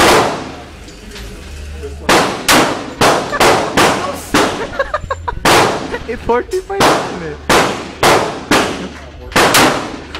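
A gun fired in a rapid, irregular series of about a dozen sharp, loud cracks, each with a short decaying tail, with people talking between the shots.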